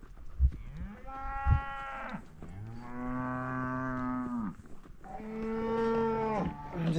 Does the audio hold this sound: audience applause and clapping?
no